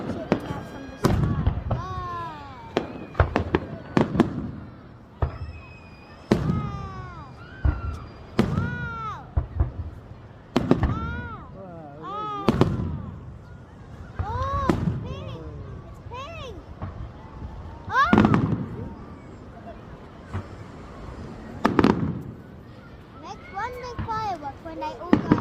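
Fireworks burst over Cromer in the United Kingdom, a loud run of booms and crackles, some close together in clusters, while children and adults chatter nearby throughout.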